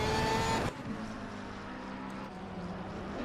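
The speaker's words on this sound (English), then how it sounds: "so I can hear the Audi just up in there" Audi race car engine in the racing game Assetto Corsa Competizione at Laguna Seca or Monza, a steady droning roar heard from the cockpit, loud at first and then dropping after a sudden shift, with no talk.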